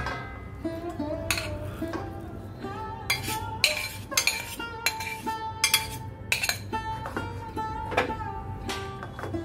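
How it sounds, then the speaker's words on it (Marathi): Cooked vegetable curry is scooped from a pan onto a plate with a utensil, giving repeated metallic clinks and scrapes spread through the clip over a low background hum. "आता ही गॅस बंद करते आणि भाजी आपली ताटामध्ये काढून घेते"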